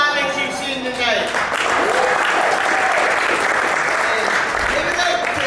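An audience at a stand-up comedy show in Sterling, Virginia breaks into loud, sustained applause and cheering, rising after a host speaks over a mic and continuing as a dense wash of clapping.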